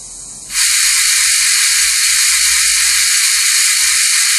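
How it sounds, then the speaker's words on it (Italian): A loud, continuous rush of steam as an H0e model steam locomotive, ÖBB MH 399, charges steam, starting abruptly and holding steady, with faint low rattling underneath. "Carico vapore,"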